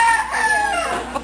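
A hen on a farm in Tarlac gives a loud, close, drawn-out clucking call lasting about a second, with no other sound around it.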